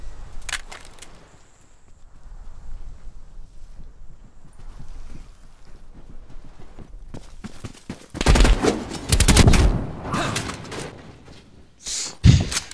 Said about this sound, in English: Goddamn shotguns, dude.